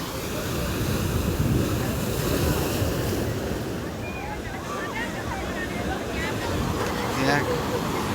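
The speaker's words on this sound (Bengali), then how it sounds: "একটা ঢেউ আসছে সেই রকম আওয়াজ হচ্ছে।" Surf breaking on the beach at Digha roars continuously with heavy wind noise on the microphone, and people talk over the crashing water.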